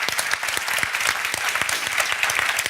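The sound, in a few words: round of applause from conference audience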